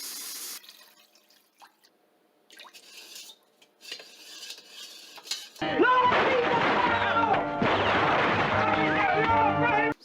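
Pasta sauce from a jar and water being stirred in a pan for a tomato broth, with close liquid sloshing and utensil scraping that grow loud midway after quieter kitchen clatter.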